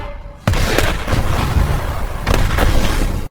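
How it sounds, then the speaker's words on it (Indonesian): A pickup truck loaded with glass bottles explodes in a film scene: a sudden loud blast breaks out, then a sustained, rumbling roar follows with a couple of sharper cracks. "hanya terdapat sebuah pick up dengan dipenuhi botol-botol kaca yang ternyata sudah siap untuk meledak"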